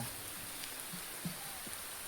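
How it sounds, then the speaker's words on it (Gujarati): Steady monsoon-style evening rain falls as a dense, even hiss, with a few closer drops pattering on a surface. "વરસાદ ચાલુ થઈ ગયો છે"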